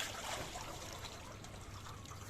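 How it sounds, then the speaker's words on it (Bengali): Water trickles and splashes steadily as fish is washed, a close, continuous wet dribbling and pouring with no talk. "মাছ ধোয়ার চলছে পরিষ্কার করার পরে আবার"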